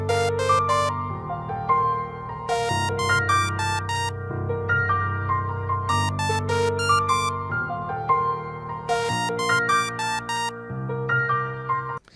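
A simple synthesized melody plays over sustained piano chords in a short looping music production phrase, with bright plucked notes on top and the chords changing every couple of seconds.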